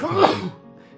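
One quick, loud sneeze close to the listener, trailing off into quiet.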